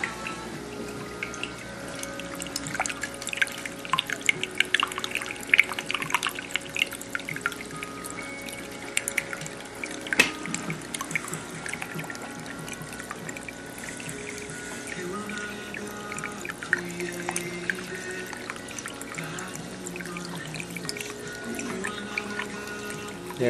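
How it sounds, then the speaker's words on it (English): Water trickles and gurgles in a plumbing overflow as trapped air escapes, with soft intermittent bubbling and pouring sounds, faint and steady, with a slightly stronger gurgle partway through. "There was just another gurgle"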